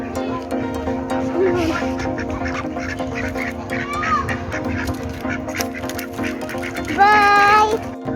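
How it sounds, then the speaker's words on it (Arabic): Ducks being fed at a bird park quack repeatedly, close and loud, with a burst of fast quacks near the end and people talking underneath. "كنت أطعمي البطة"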